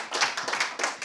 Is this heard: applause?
yes